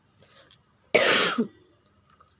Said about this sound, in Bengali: এই যে দিতে দিতে আমার কিন্তু কাশি হচ্ছে